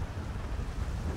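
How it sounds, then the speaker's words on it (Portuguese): Tsunami waves in the video game GTA 5 give a low, steady rushing roar of surging water and wind, fairly quiet and continuous, with no talking. "Olha o tamanho dessas ondas"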